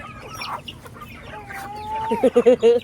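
Hungry chickens clucking close by, soft scattered clucks building to a burst of loud rhythmic calls at the end, with faint background voices.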